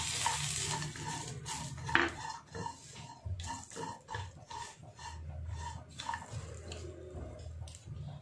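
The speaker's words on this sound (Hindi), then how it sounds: "अब नारियल को फ्राई कर लेती हूँ।" Dried coconut fries in a pan with soft sizzling, while a spoon scrapes and stirs in uneven, clattering strokes throughout, close and fairly quiet.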